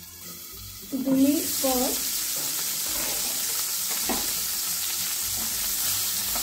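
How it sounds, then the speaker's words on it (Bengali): Bitter gourd (uchhe) frying in a pan, a steady broadband sizzle running throughout, with someone speaking briefly over it near the start. "প্রথমে একবার হালকা করে উচ্ছেগুলো ভেজে নেওয়া হচ্ছে"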